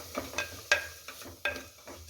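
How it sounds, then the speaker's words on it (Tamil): Washed lentils and spices being stirred in a cooking pot for oats vegetable kichadi, a few soft scraping strokes with faint sizzling, quiet and close. "இதை கொஞ்சம் நல்லா கலந்து விடலாம்."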